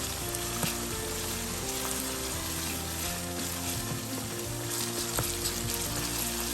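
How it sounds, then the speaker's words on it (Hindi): Moong dal cooking in a pan of boiling water over medium heat, giving a steady, dense bubbling sizzle throughout with small scattered clicks, no voices. "आँच हमने मीडियम कर दी है ताकि ये मीडियम आँच पे अच्छी तरह भुन जाए।"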